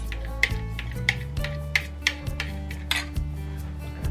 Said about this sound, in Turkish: bir kaşık alıp güzelcik karıştırıyoruz